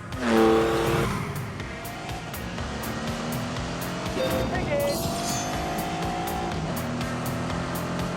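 A Lamborghini Countach supercar in a racing video game drives fast, its engine roaring steadily alongside tire squeal, with a loud burst at the start and a continuous mix throughout.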